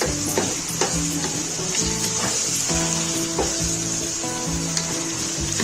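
Minced meat frying with potatoes, peas and mashed tomatoes in a pan, a steady close sizzle with occasional scraping stir strokes throughout, no voices.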